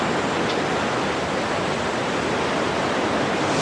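Powerful river water rushing and roaring nearby in Ireland, a dense, steady broadband torrent with no pauses, loud and unbroken like a waterfall, with no voices over it.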